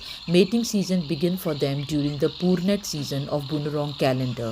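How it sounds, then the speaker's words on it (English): Crickets chirp in a steady, continuous high trill through a mating-season scene, running behind a person who talks over it throughout. "the crickets chirping to attract the females"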